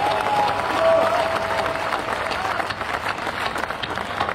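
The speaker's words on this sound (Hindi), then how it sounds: "दोनों हाथ उठाकर इस पर तालियां बनी" Audience applause at a political speech during a Ram Navami event in India, a dense, loud wash of clapping from a large crowd that holds steady and slowly thins.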